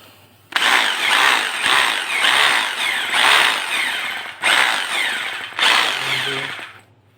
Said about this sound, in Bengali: ড্রিল করে দেখা যাক কেমন ড্রিল করে মেশিনটা।